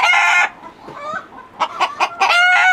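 A hen in a farm coop looking for a spot to lay an egg, clucking loudly and close in a series of short, uneven calls.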